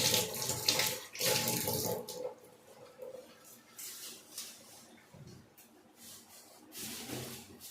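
Hot water runs from a tap in a steady, splashing stream that is fairly quiet and continues with small changes in flow.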